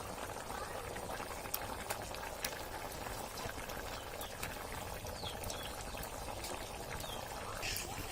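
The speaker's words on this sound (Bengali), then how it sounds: "তো এখন আমাদের বলক এসে পড়েছে তরকারি" A vegetable curry with green banana and papaya comes to a boil in a pot, giving a soft, steady bubbling and gurgling with occasional small pops, fairly quiet and close.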